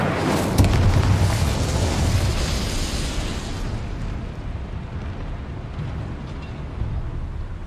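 Incendio fire spell cast in Hogwarts Legacy, a loud, dense roaring burst of flame that swells early and then rumbles steadily for several seconds, close and alone.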